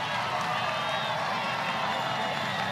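A softball crowd at a Big 12 quarterfinal between Oklahoma and Kansas roars after a base hit. The broad, steady wall of cheering holds at a constant level for the whole stretch, with no break.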